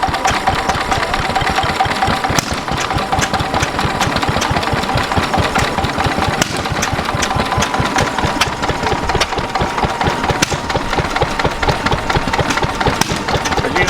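An old stationary engine at a heritage transport show, running under load while powering six light bulbs, with a steady, loud, rapid knocking beat that continues unbroken and up close.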